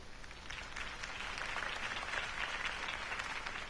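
A crowd applauds after a campaign speech in the video game Batman: The Telltale Series, with sustained, fairly distant clapping that swells slightly and continues evenly.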